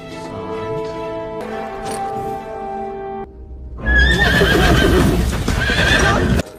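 A horse neighs over tonal music, then after a brief pause a loud burst of hoof clip-clops and whinnying fills the last few seconds, close and busy.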